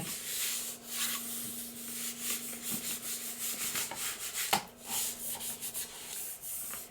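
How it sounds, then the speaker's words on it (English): Paper in an altered book is burnished by hand, a soft, close rubbing and swishing in irregular strokes with one sharper scrape, quiet and alone. "I'm giving that a good burnish."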